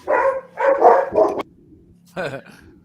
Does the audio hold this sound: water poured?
no